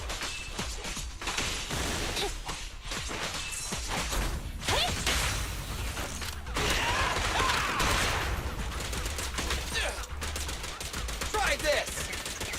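Video game gunfire erupts in dense bursts of rapid shots and impacts, loud and continuous with short gaps, mixed with whooshes and game sound effects.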